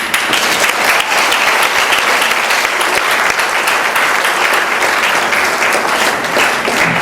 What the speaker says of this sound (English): let's begin with a round of rousing applause for the 25th Dalisayan ceremonies of the Loyola Schools Awards for the Arts